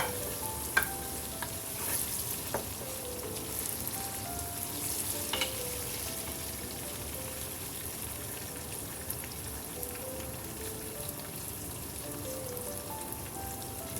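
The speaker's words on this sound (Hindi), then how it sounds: "ये हमारे पास कद्दू शरीफ हैं, ये आप इनको भी फ्राई कर लें ऑयल में।" Pumpkin (kaddu) pieces fry in oil with a steady, soft sizzle for a dal kaddu dish, a few faint clinks and stirs scattered over the continuous crackle and no voices.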